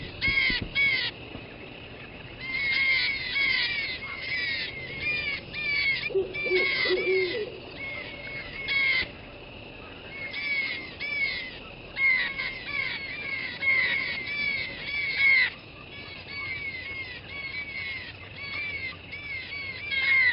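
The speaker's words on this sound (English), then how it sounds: "a flock of noisy jays can ruffle the feathers of even the wisest old owl" Blue jays in a noisy flock mob a barred owl in a swamp, repeated harsh calls bursting out in clusters from about three seconds on, with a brief lower hooting note near the seven-second mark, no talk.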